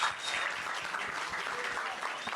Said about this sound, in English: let's have a round of applause for Phil here